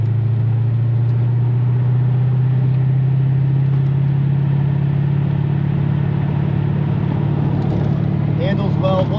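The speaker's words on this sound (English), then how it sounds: "we're on a test drive for this 86 Corvette ZR1" A 1986 Chevrolet C4 Corvette ZR1 on a test drive, its engine giving a steady low rumble with road and wind noise throughout, close and continuous, with a few faint higher whines near the end.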